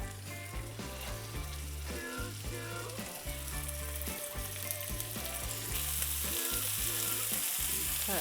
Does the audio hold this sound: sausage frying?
yes